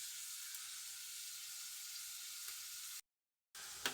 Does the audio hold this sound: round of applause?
no